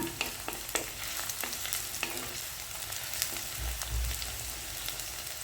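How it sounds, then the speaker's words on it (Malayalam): Ginger, garlic and green chillies fry in hot oil in a pan for a fish curry, giving a continuous crackling sizzle dotted with sharp pops and a low scraping stir midway, fairly quiet and close with no talking. "ഇഞ്ചിയും വെളുത്തുള്ളി ഇട്ടിട്ടൊന്ന് മൂപ്പിക്കുക"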